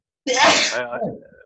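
One loud, close sneeze bursts out suddenly, then trails off into a brief breathy tail.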